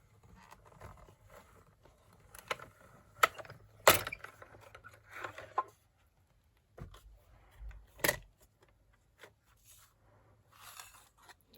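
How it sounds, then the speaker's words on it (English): A hand-cranked die cutting machine cuts paper in one pass, giving intermittent rasping, clicking mechanical bursts with short pauses between turns, close and fairly quiet. "just like any die cutter, you just turn and it will cut them"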